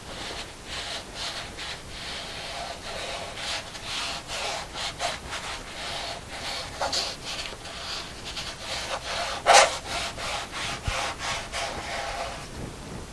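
Hands pressing and rubbing down on a canvas during an acrylic bottle-bottom paint pour make repeated soft scraping, rubbing strokes at a steady rhythm. The sound is close and moderate, with one sharper knock near the end and no talking.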